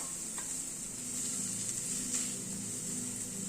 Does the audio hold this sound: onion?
yes